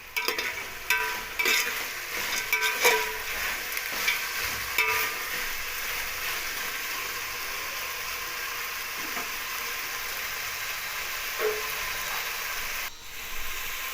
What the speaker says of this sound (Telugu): టమాటా ముక్కలు వేసుకొని కలుపుకోవాలి